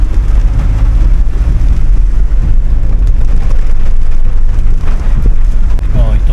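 Heavy rain drums down during a wet motorcycle ride, a dense loud wash over a deep rumbling road and engine roar, with no speech.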